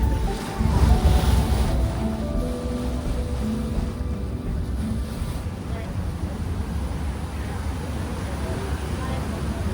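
Water laps at the harbour edge in Hong Kong, a continuous wash of surf with wind buffeting the microphone and low rumble beneath, with voices talking over it.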